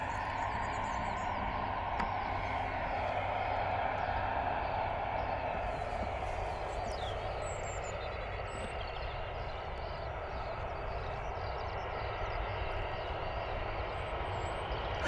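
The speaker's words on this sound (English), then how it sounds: "Our next arrival, EasyJet A320 coming in from Palma" An EasyJet Airbus A320 airliner arriving from Palma to land at Bristol Airport rumbles steadily at a distance in early morning outdoor air, a broad continuous engine roar with faint birdsong above.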